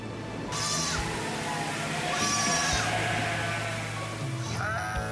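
Sheep and goats kept by Mongolian nomads bleat repeatedly on the open steppe, several loud overlapping calls over a steady background hum, with no talk.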